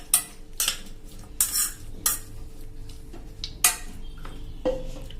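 A spoon scrapes and clinks against a pressure cooker while stirring a lemon pickle mixture with water and asafoetida, with several sharp, bright metallic knocks at uneven intervals over a low background hum.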